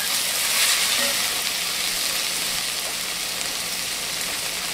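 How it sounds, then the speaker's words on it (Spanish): A filling with raisins and peanuts sautéing in a pan gives a steady, even sizzling hiss throughout, close and moderately loud, with no distinct pauses or voices. "Seguimos rehogando esto, ya casi al final vamos a probar la sazón."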